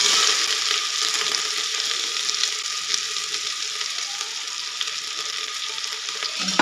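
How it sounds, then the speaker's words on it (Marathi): Finely chopped onion sizzles in hot ghee with asafoetida, a bright, continuous frying hiss that stays close and even throughout, with no talking. "त्यानंतर बारीक चिरलेला कांदा घालणार आहोत"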